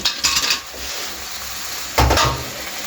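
A lid is set onto a cooking pot of tomatoes simmering for homemade ketchup: a metallic clatter, a quiet pause, then a second louder clank.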